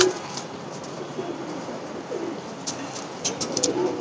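A male tournament pigeon gives soft, repeated cooing calls close by over a steady background hiss.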